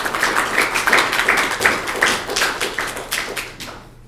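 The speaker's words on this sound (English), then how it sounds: "Can we give one final round of applause to" Workshop audience claps together for several seconds at the close of a session, a steady dense patter of hands that thins out and fades toward the end.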